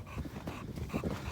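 A dog in deep drifted snow during a winter trapping outing, giving soft whimpering and yipping noises close by over a steady muffled outdoor background with no talking.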